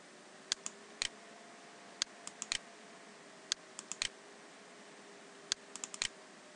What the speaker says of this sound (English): double right click to achieve that